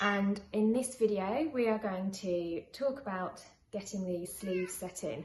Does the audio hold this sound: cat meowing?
yes